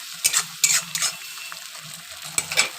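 Spice paste for a mustard-oil amudi fish curry frying in a pan, a soft continuous sizzle punctuated by several quick scraping strokes of a spatula stirring.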